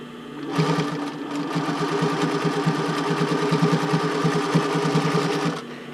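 A domestic sewing machine stitches a bra band, its needle hammering in a fast, steady mechanical rhythm with a motor hum, running continuously and close after a brief start and stopping near the end.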